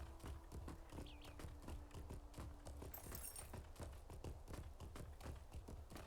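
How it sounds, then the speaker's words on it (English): Horse hooves clip-clop steadily across a wooden bridge in the online game LOTRO, a regular rhythmic walking beat with a faint whinny partway through and soft game ambience underneath. "Tough to keep that horse steady across that bridge."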